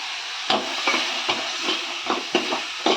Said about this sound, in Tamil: சிம்மில் வச்சு அடி பிடிக்காத அளவுக்கு கொஞ்சம் மசாலா வதக்கிடுவோம்.